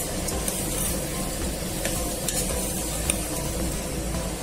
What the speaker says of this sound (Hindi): अब इसको भी अच्छे से मैं भून लूंगी।